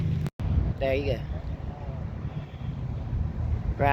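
Wind buffets the microphone at an outdoor car show in Greenville, South Carolina, a steady low rumble that runs throughout while someone talks briefly over it.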